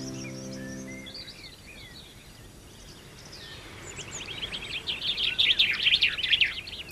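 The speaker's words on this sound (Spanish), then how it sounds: "Esta que vemos es una raza del pinzón tintillón, propia de La Gomera." A La Gomera chaffinch sings in the Garajonay forest, giving scattered chirps that build into a louder, rapid trilling phrase toward the end, with a low hum at the start.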